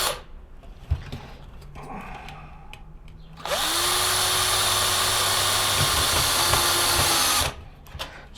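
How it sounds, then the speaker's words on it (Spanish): A handheld electric screwdriver drives long screws into a homemade mini wind generator, starting with a few faint clicks and handling noises, then a loud, steady whirring run of about four seconds that stops abruptly. "Lo voy a apretar con el destornillador eléctrico para hacerlo más rápido."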